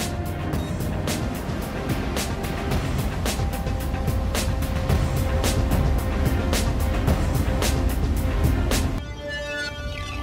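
Patrol boat running with both engines at half ahead, a steady low mechanical drone with broadband hiss and rhythmic pulsing throughout, loud and close, easing slightly near the end.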